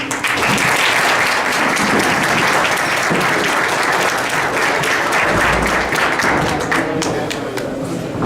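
A seated audience at a forum on Indigenous shelters in the Sierra Tarahumara gives loud, dense applause that holds steady throughout, then tapers slightly toward the end.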